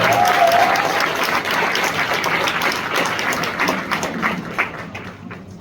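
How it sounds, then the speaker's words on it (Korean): Audience applause at a graduation ceremony for a Korean academy, steady dense clapping from a crowd that holds throughout and thins slightly toward the end, with a brief tonal trace early on. "내빈 여러분의 큰 박수 부탁드립니다."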